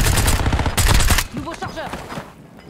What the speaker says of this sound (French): L'ennemi utilise un canon à main.